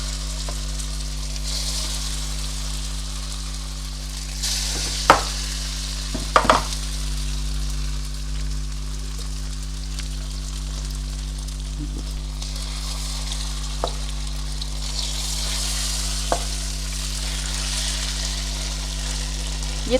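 Chicken pieces for chow mein frying hard over high heat, a steady close sizzle running throughout with occasional sharp clinks and stirring knocks from the pan.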